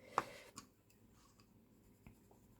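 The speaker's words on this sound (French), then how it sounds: "vous pouvez très bien colorier au crayon sur ce papier-ci." A pencil colours on textured paper in a few quiet, scratchy strokes, with a sharper tap near the start and another later. The sound is faint and close, and no one talks.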